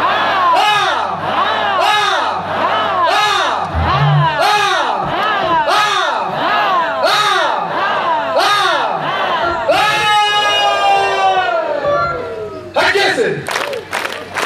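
A church congregation at an evening Rapture feast service shouting rhythmic acclamations together, a loud, dense crowd roar in repeated pulses, then a sustained swelling cheer and a burst of scattered whoops at the end.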